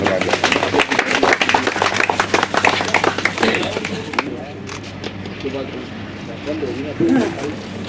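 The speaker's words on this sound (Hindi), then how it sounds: "ताली बजा दो भाई एक बार।" An audience at a retirement party claps in a burst of sharp, dense hand claps for about four seconds, then thins out into scattered claps and murmuring voices.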